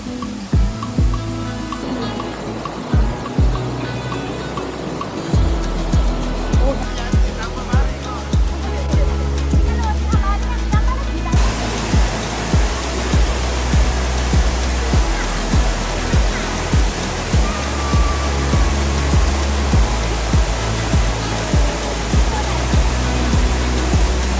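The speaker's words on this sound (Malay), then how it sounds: "Itu dia air terjunnya." Waterfall at a river campsite and recreation rapids in Rembau, Negeri Sembilan, roaring as a steady broadband rush of falling water with a low rumble, continuous and fairly loud, with rhythmic thumps and some speech-like sounds mixed in.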